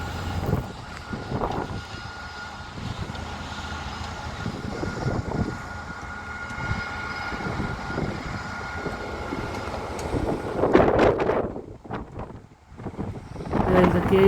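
Strong wind blowing outdoors at a work site, a continuous roaring rumble buffeting the microphone with gusts that swell louder toward the end, and people talking faintly underneath.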